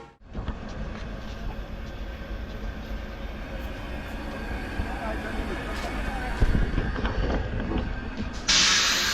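Farakka Express 13413 with its Howrah-shed locomotive rumbles steadily nearby, a low continuous rolling noise with a sharp hiss near the end, while someone talks over it.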